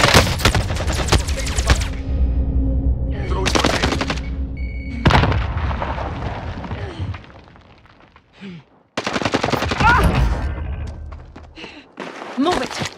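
Gunfire in the Call of Duty Warzone video game: loud, dense bursts of automatic fire and shots that come in several clustered volleys with short lulls between them, while voices talk over the action.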